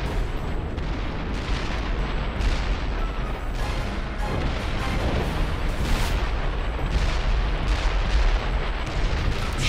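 Sustained battle gunfire with sniper shots in the Call of Juarez: Bound in Blood game, during a fight to hold a flank near a bridge: dense, loud, continuous bursts and booms with no pauses for the full span.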